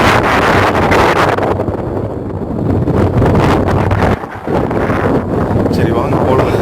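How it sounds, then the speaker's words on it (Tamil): Strong wind blows hard across the microphone at Manimuthar Dam, a loud, steady broadband roar that dips briefly partway through before rising again. It may sit under faint voices. "காத்து பயங்கரமா அடிக்குது"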